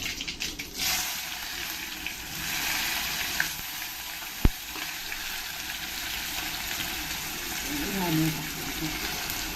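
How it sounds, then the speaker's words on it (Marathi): Onion dropped into hot oil with mustard and cumin seeds sizzling in a pan, a constant moderate hiss with a few faint clinks, a voice heard briefly over it. "आणि नंतर कांदा टाकूया."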